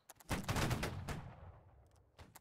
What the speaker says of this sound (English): We have Voltigers firing on our position.